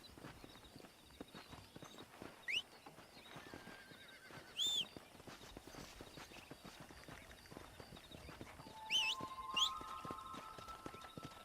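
Horse in the video game Red Dead Redemption: steady clip-clop of hooves throughout, with a few loud, sharp neighs and whinnies rising above it near the start and again toward the end.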